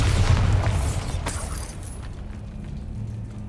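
A Bombarda blasting spell in Hogwarts Legacy goes off in a loud, booming burst right at the start, then fades into a low, lingering rumble.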